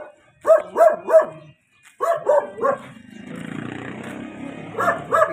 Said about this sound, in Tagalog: Kita po siya ng ibang aso, tinatawalan.